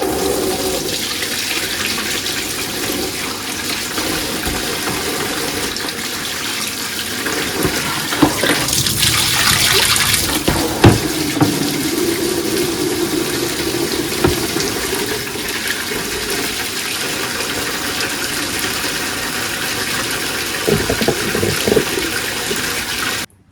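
Tap water runs steadily into a kitchen sink being filled for a one-month-old baby's bath, a continuous loud gushing splash lasting throughout with slight shifts in tone, no voices.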